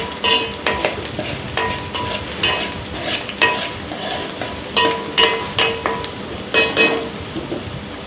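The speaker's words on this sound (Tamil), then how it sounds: "நல்லா இந்த மாதிரி பாருங்கள் எப்படி எண்ணெயில் கொதிக்கிது பாருங்கள்" Onions and green chillies fry in bubbling oil for okra curry, a steady close sizzle broken by repeated scraping strokes of a spoon stirring the pan.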